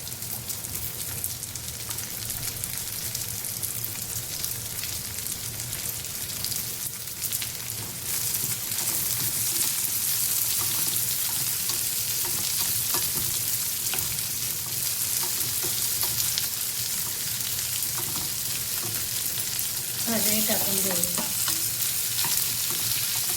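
Corn kernels fry with a steady, loud sizzle while a spoon stirs them around the pan, the crackle holding evenly throughout with brief scraping bursts near the end; no one speaks.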